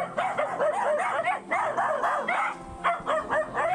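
Several dogs barking around a house in a mountain area, repeated close yips and barks in quick irregular bursts, loud and continuous with whimpers between.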